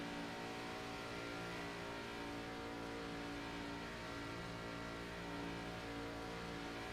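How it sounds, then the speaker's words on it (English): A race car in a sim racing game holds a steady, loud, sustained engine drone at high speed, about 180 mph, with constant tone and no speech heard. "Listen to the engine."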